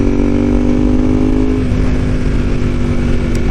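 Ducati 748R motorcycle engine droning steadily while riding on the Hakone Turnpike in Japan, a loud, continuous mid-pitched hum with a slight dip in tone partway through, no voices.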